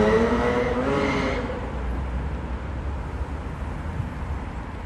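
Urban traffic passes in a continuous broadband roar, with one vehicle swelling loudly at the start and then fading into a steady, moderately distant wash of road noise.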